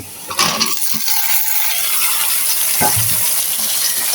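Cut, washed eggplant pieces tumble into a hot pan with onions, clattering on landing before a loud, steady sizzle of frying fills the rest of the moment.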